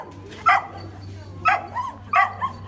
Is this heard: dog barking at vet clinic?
yes